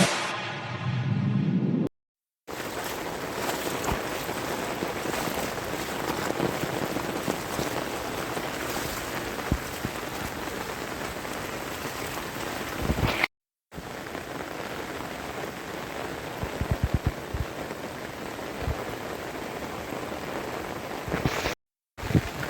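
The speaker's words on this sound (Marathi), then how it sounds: "जाम पाऊस आहे बघू शकतो मी एवढा पाऊस पडतो" Heavy monsoon rain pours down steadily on a village, a dense, loud, continuous wash of drops with brief breaks, no talking.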